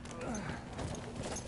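Hooves clip-clop from a horse ridden in the Battlefield 1 video game, a steady galloping rhythm mixed with battlefield noise and talk over the top.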